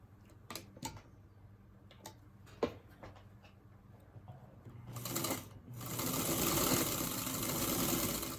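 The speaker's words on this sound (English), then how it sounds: "So I'm going to go ahead and sew." A sewing machine stitches fabric with a handful of sharp ticks and short starts, then settles into a steady, loud whirring run of stitching for the last few seconds, close by.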